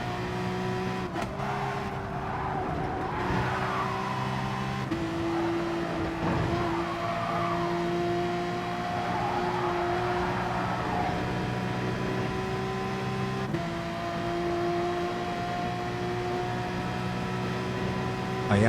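Race cars from the Gran Turismo Sport video game drive hard through a Group 3 race at Dragon Trail Seaside, engine tones steady and sustained with gear changes and braking, continuous and fairly loud throughout, with no talk.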